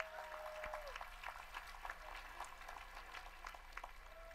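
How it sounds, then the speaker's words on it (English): A crowd at a university sports awards ceremony applauds with steady, dense clapping throughout, under a faint high tone and room hum. "How about a big round of applause for everyone?"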